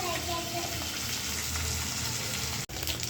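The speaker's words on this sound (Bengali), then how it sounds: "এই পাশে আমি তেজপাতা আর জিরা দিয়ে এবার আলুগুলো ভাইজা নেব" Potatoes fry in hot oil with bay leaf and cumin, a steady bright sizzle running throughout with a faint stirring scrape, cut by one brief dropout near the end.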